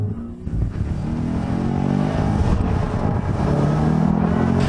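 A Subaru WRX STI with a stock clutch accelerating hard in second gear under boost, its engine roaring loud and steady from inside the cabin, the pitch climbing continuously with no talk.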